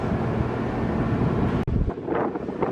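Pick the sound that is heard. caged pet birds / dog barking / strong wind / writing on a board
strong wind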